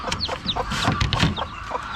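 Several chickens, including a native hen and shamo gamefowl, cluck and chatter continuously nearby, with short higher-pitched calls scattered through a busy coop-like background.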